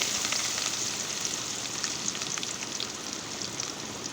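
Onion paste frying in a pan for biryani: a steady, crackling sizzle with faint scattered pops, constant in level and heard alone without talk.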